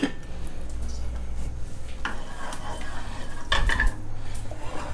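A metal spatula clanks and scrapes against a hot wok as pork lard goes in for a dry stir-fry of fish maw with shiitake, a busy run of pan clatter with faint sizzling underneath.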